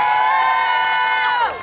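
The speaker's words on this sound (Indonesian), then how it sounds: "Tepuk tangan dong untuk MA Darus Syifa Putra." An audience at a youth jamboree stage show shouts and cheers in a loud, sustained unison cry that holds steady, then drops away at the end.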